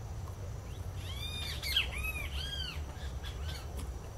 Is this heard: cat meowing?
no